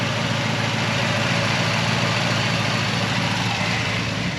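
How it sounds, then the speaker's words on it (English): A supercharged Hummer engine runs at a steady idle, a close, even mechanical rumble with no talking. "Look, look, the Supercharger's running. It sounds amazing."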